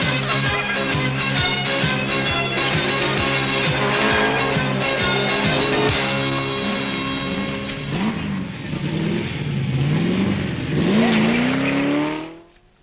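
A Triumph TR7 V8 rally car races on tarmac and gravel, its loud, close engine revving hard through repeated gear changes, with bursts of tire squeal and skidding before it fades out at the end.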